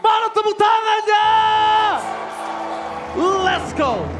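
Esports arena crowd at a Mobile Legends match yelling and whooping in loud bursts, with an announcer's excited shouted voice over the noise and swelling cheers near the end.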